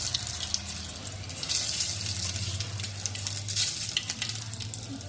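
Garam masala sizzles in hot oil in a pan, a dense bright hiss that swells and fades in waves, close and continuous with no talking.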